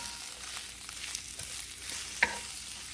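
Spinach and garlic sizzle steadily in a pan while a utensil stirs them, giving soft scrapes and one sharper clink against the pan over the constant frying hiss.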